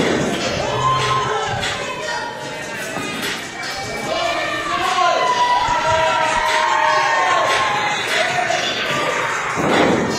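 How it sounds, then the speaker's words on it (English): A wrestling crowd at a New Age Wrestling event cheers and shouts steadily, a loud continuous roar of many voices with occasional thuds and swells. "Of course he's going to get cheers."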